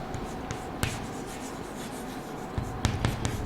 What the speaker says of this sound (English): let me write the fragmentation